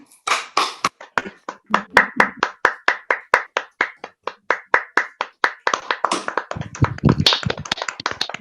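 A few dozen sharp hand claps from an online audience, unevenly timed at first, then steadier, with a denser burst of overlapping clapping and some low noise toward the end, as remote microphones open.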